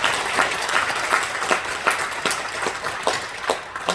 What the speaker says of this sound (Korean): 박수 쳐주시죠.